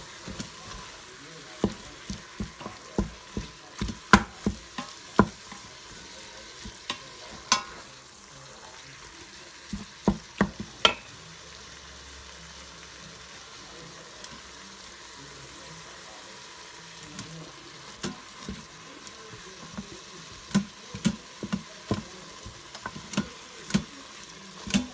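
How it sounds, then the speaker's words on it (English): Ground beef browning in an Instant Pot, a soft low sizzle running throughout, punctuated by frequent sharp clicks and scrapes of a utensil against the inner pot, close up and fairly quiet. "You don't have to get a separate pan out and brown your burger."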